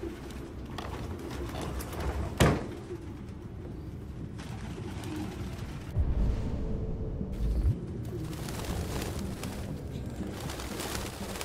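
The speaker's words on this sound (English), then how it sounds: "Why are there so many birds in this motherfucker?" Several pigeons keep up a low, throaty cooing inside a room in Detroit: Become Human, a continuous murmuring bed with a couple of sharper knocks and rustles breaking in.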